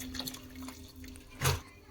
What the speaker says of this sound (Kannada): ಈಗ ಬಸ್ಕೊಂಡಿದ್ವಲ್ಲ, ಅದು ನೀರು ಹಾಕ್ಕೊಳ್ಳೋಣ.